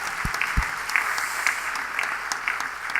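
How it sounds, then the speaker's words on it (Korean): A church congregation at a Spirit-awaiting revival service at Haeundae Maeil Full Gospel Church breaks into loud, sustained applause, many hands clapping together in a dense, continuous wash for the whole moment. "우리 하나님께 영광과 감사의 박수 드립니다"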